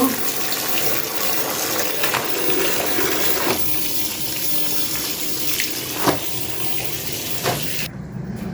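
Tap water runs steadily and loudly while washed clothes are rinsed by hand, with occasional splashes and knocks over the constant flow.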